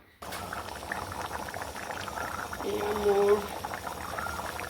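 Potatoes boil in a pressure cooker on a kitchen stove, giving a steady bubbling hiss with a brief rising whistle-like tone near the end, moderately close.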